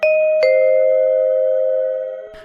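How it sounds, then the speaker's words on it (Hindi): An apartment doorbell's two-tone chime rings out clearly, two bright strikes in quick succession with a sustained ringing tail that slowly fades. "तभी उनके फ्लैट की घंटी बजती है।"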